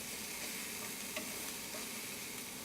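Onions cook in a pan, browning for chicken carbonara, with a soft, continuous sizzle and a faint stirring scrape, quiet and steady with no talking.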